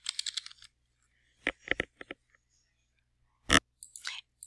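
Typing on a computer keyboard: quiet clusters of quick key clicks in short bursts separated by silent pauses, close and alone.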